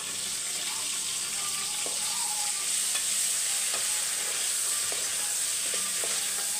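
Drumstick and raw mango pieces sautéing in a pan for sambar, a continuous even sizzle with faint occasional stirring taps, close and steady without speech.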